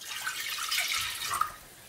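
Half a litre of water poured into a cooking pot makes a short, bright splashing rush that tapers off after under two seconds, with no talk.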